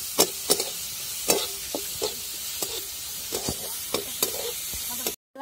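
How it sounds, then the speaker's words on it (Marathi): Onion fries in a little oil for a dry soybean bhaji, heard as a soft continuous sizzle broken by repeated scraping stirs of a spatula at an irregular rhythm, close by, with no voices. "आपण कांदा परतायला थोडंसं तेल टाकणार आहे"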